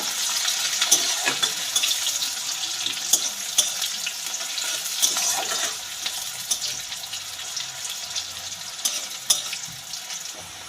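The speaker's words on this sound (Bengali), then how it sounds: "একখানা পেঁয়াজ কেটে রেখেছিলাম সেটা তেলের মধ্যে দিয়ে দিলাম পেঁয়াজটাকে ভালো করে একটু ভেজে নেব" Chopped onion sizzles steadily in hot oil in a home kitchen, a continuous bright frying hiss with occasional pops and stirring clatters, close and fairly loud throughout with no talk.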